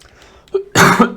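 A tired man coughs twice, a short rough burst followed by a second louder cough, close and alone with no talking.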